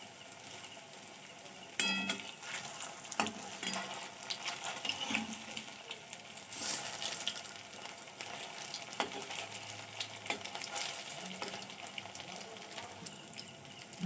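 Sujir puli pitha, semolina dumplings, frying in hot oil with a soft, steady sizzle and occasional clinks of a utensil against the pan.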